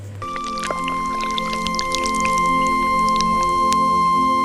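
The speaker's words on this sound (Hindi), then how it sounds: "किसान तुरंत पानी लेने जाता है और मटका उठाकर बाज को पानी पिलाने लगता है।" Water pours steadily from a clay pot (matka), with a continuous trickling splash and small drips over a sustained tonal background.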